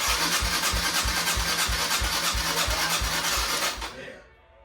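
Kawasaki KLX140 dirt bike, bored out to about 186cc, cranking over loud and steady with a regular rhythmic pulse that doesn't quite catch, then cutting off abruptly near the end.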